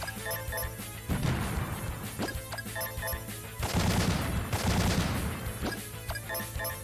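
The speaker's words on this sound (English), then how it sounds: "the anti-air cannon is very satisfying to fire" Repeated heavy cannon blasts from an anti-air gun in the video game Metal Saga, loud crashing bursts about every second or so, set over a steady game music bed with no voices.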